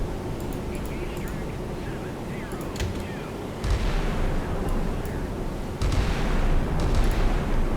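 Heavy naval guns fire in the Sea Power naval combat game. Two deep booms land a couple of seconds apart, each followed by a rumbling tail over a steady background of engine and wind noise.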